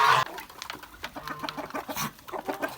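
Geese and other farm birds cackle and cluck in a busy, irregular chorus, fairly close, with bursts of honking calls overlapping one another.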